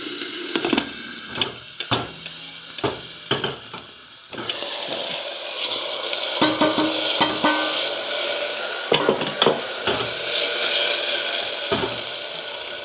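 Tomatoes with asafoetida fry in a hot pan after cumin, sizzling steadily with a hissing bed of steam while a spoon scrapes and stirs in repeated close clanks and strokes, the sizzle swelling louder partway through.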